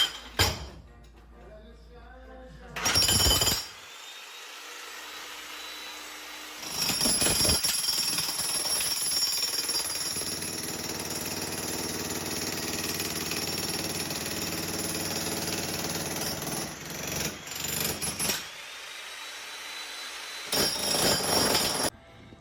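Loud percussive hammering from a jackhammer breaking concrete comes in bursts, with long stretches of steady machine rattle and clatter between them, fairly close by.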